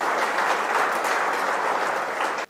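A school audience claps at a Hindi-language discussion on higher education, a loud uniform burst of applause holding steady before cutting off abruptly near the end.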